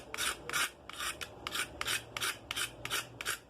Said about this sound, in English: So take your knife and you just kind of scrape everything off